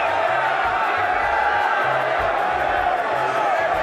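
Tournament crowd at a Smash Bros. invitational cheering and shouting steadily throughout, a dense roar of many voices voting for a fan favorite player.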